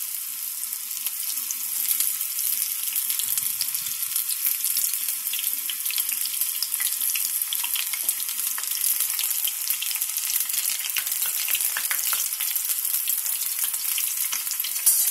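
Corn kernels deep-frying in hot oil, dropped in a little at a time for a crispy corn fry, give a steady, dense, bright sizzle that holds evenly and loud throughout, with no voices.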